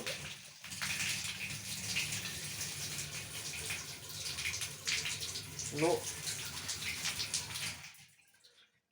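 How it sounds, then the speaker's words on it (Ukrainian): Water gushes steadily from a tap just fitted with a new valve cartridge, a loud splashing hiss that stops abruptly near the end, with a brief spoken word near the start. "Давайте подивимось, як біжить же вода. Відкриваємо."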